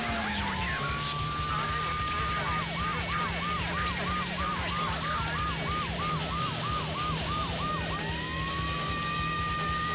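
Police car siren in the racing game Need for Speed 3: Hot Pursuit, a steady wail shifting into a fast repeating yelp, then back to a long tone, loud over a constant engine drone.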